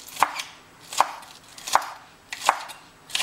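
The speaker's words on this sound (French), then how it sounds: "on va couper la ciboule en petits morceaux" A knife chops spring onion into small rounds on a cutting board, a steady series of five crisp, close thuds evenly spaced about three quarters of a second apart, with no talking.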